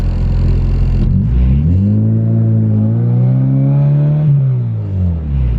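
A car engine with worn second-gear synchros revs hard and loud through a gear shift, the pitch climbing steadily and then dropping as the clutch goes in, close and unbroken with no talk.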